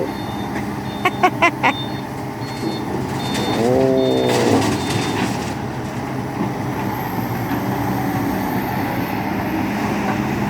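A big green excavator digging a narrow, deep trench in soil: a few short warning beeps, then a steady diesel rumble with a rising hydraulic whine partway through, close and continuous.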